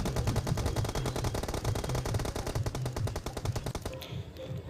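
Rapid automatic gunfire in the video game Free Fire, dense repeating shots in a continuous burst for about four seconds, then a cut-off with a quieter tail.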